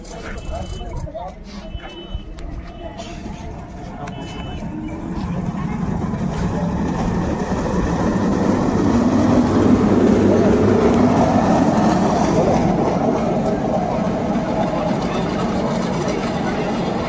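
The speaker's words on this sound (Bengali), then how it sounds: "এখানে ট্রলি ইন্সপেকশন চলছে" A CRS railway inspection trolley runs on the Bishnupur–Tarakeswar line near Bara Gopinathpur station: a low rumble swells as it draws nearer, then holds steady, with voices talking over it.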